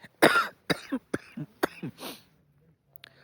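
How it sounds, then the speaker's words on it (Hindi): Several close, loud coughs from a person trekking in the cold on the Triund mountain trail at high altitude, coming in short bursts with brief pauses, then a quieter rasp at the end. "ठंड की वजह से खांसी बढ़ गई मेरी हल्की सी"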